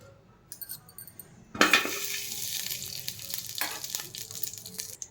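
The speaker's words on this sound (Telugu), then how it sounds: "ఇప్పుడు నెయ్యి వేసుకుందాము." Ghee hits a hot pot and bursts into a loud, steady sizzle about a second and a half in, crackling on alongside light metallic clinks from a utensil, with no talking.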